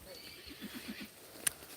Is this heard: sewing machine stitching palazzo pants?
no